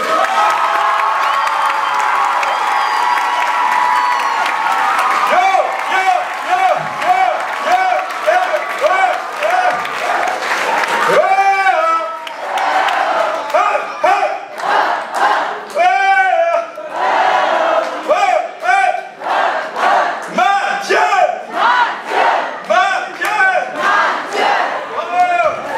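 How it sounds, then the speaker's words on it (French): A conference audience at a closing ceremony cheers, whoops and applauds loudly for an organiser, a dense crowd roar with shouting that swells midway and stays strong and continuous throughout. "applaudissez très fort Mathieu"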